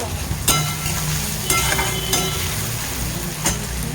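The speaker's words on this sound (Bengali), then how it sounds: "মশলাটা তখন আমার ভাজা হতে থাক" Spices frying in a pan for a ridge gourd mash, a constant crackling sizzle with a few brief scraping clicks from stirring, close and steady throughout, with no one talking.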